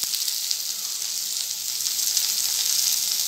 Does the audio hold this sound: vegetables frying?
yes